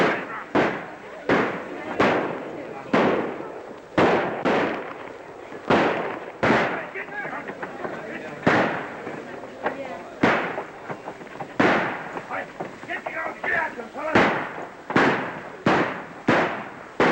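Repeated sharp gunshots in a 1935 western film, loud reports fired in irregular bursts with ringing echoes, scattered across a shootout with no talk.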